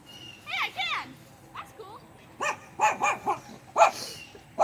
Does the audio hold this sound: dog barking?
yes